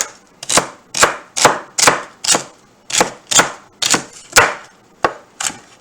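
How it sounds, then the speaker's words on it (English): A knife mincing broccoli stalk and celery on a cutting board: a steady series of about a dozen sharp, loud chops at close range, evenly spaced, with no talking. "Nice and minced. You can go kind of fine on this one."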